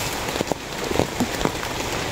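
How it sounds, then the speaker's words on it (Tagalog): Heavy rain pounding a surface in a dense, continuous hiss, with a few sharper drops standing out close by. "Malakas po ang ulan."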